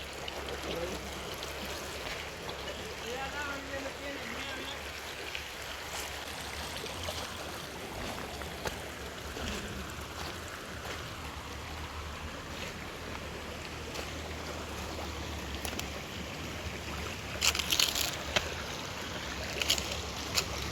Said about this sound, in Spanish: Está bien bonito el río de acá por Tzitzil